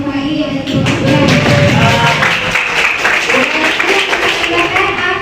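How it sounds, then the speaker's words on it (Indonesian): A classroom full of students claps for a classmate, a steady, dense round of hand clapping that holds at full loudness without a break. "Kita kasih aplaus semua ini untuk Afgan"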